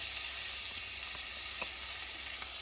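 Garlic and cumin seeds fry in oil in a pan, giving a steady, even sizzling hiss close by, broken by a single small tick.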